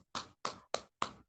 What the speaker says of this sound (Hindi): चलिए एक जोरदार ताली चाहूंगा